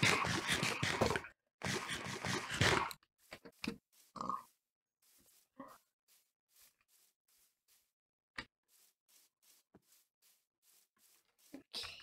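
A pig in the game Minecraft gives a few short, close grunts and oinks, scattered between scratchy clicks and rustles after a burst of louder noise at the start.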